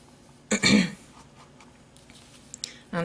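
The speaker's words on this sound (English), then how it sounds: "I'm sorry if I keep clearing my throat" A woman clears her throat twice while crafting at a table, with a harsh burst early on and a shorter one near the end, both fairly close and separated by quiet rustling.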